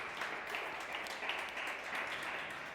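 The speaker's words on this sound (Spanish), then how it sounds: "¿Puedes darle un aplauso al Señor?" A church congregation claps together during a sermon, a soft, even wash of applause that sounds distant and fairly faint throughout.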